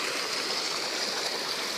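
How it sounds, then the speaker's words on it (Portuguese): Water from a stream runs steadily under a small bridge on the way to a waterfall after recent rain, a continuous close rushing hiss with no talking. "Aí a água tá correndo."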